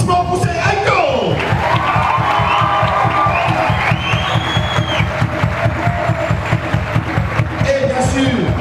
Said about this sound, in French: Eh bien, un grand applaudissement pour ces Aïto.